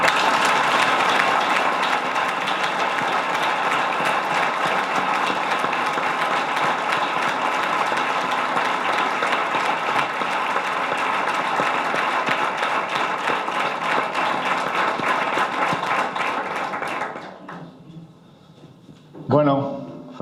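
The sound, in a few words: audience applause, an ovation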